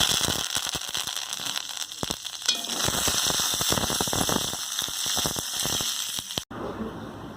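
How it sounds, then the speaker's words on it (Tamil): Mustard seeds, dried red chilies and curry leaves crackle and sizzle in hot oil for a chutney tempering, a dense run of popping and spitting that stays loud and close before cutting off abruptly near the end. "இப்போ நல்லா தாளிப்பு சேர்த்தாச்சுங்க."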